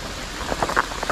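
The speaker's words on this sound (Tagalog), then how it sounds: "Kaso umuulan na." Rain falls steadily outdoors at a rice paddy during fishing, a dense wash of patter with a few sharper drops standing out, fairly close and without voices.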